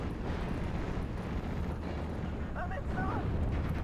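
Napalm attacks in the WWII strategy game Steel Division: Normandy 44 produce a dense, continuous roar of fiery explosions and rumbling blasts, steady and moderately loud, with a few faint higher tones near the end.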